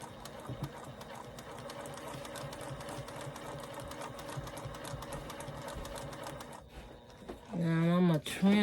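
Sewing machine stitching a small quilted postcard, a steady rapid rattling whir up close that stops near the end before a person starts talking.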